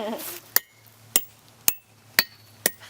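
Five evenly spaced metallic clanks of a hammer striking a wedge to split a giant stone, loud and close, with a brief voice at the start.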